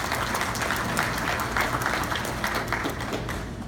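An audience applauding at a college orientation welcome speech, a thick, sustained wave of clapping from many hands that holds steady and eases slightly toward the end.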